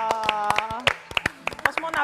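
Clapping from a studio audience on a French talk show, sharp separate claps in an uneven rhythm, close and clear, heard under a voice talking over them.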